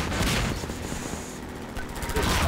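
Gunfire in the video game Half-Life 2, a dense continuous volley of shots and explosions filling the whole stretch, loud and busy with some voice mixed in.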